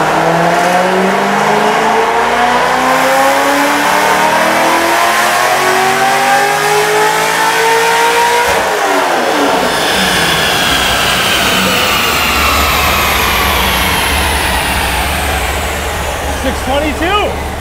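A Corvette Z06 roars on a dyno pull after throttle body and fueling tuning, its engine climbing steadily in pitch through a long, loud full-throttle sweep before backing off and winding down, very close and dominating throughout.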